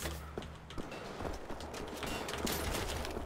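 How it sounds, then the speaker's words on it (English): Pistol fire in the shooter game Wolfenstein: The Old Blood, a rapid cluster of sharp shots and impacts over a constant game background, fairly loud and close. "Well, pistol snipe now."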